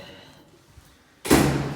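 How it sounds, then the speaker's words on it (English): A door swung shut indoors, one sudden loud slam or thud after a quiet moment, with the sound ringing on briefly. "let's close that door."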